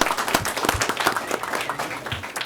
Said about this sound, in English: let's give Maine's Elementary School another big round of applause